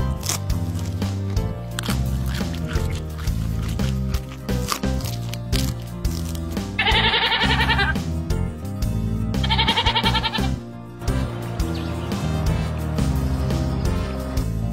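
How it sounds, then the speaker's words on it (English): A cartoon goat bleats twice in a kids' animal-sounds cartoon, two wavering bleats over continuous background music. "Goat."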